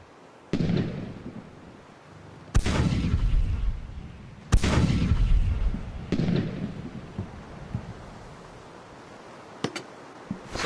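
Ship cannons fire a broadside in the pirate naval video game Blackwake: several deep booming blasts go off one after another, each trailing a long rumbling decay, followed by a few faint distant pops.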